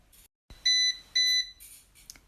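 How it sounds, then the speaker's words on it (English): A SMART Bacon Express cooker gives its preheat signal: two sustained electronic beeps, each about half a second long with a short gap between, loud and close, followed by a soft clatter. "the cooking dial will beep 10 times"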